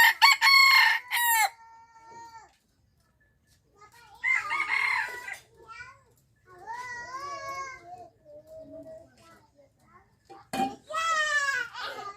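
Rooster crowing repeatedly, several loud close calls with pauses between them, and a voice speaking among the crows.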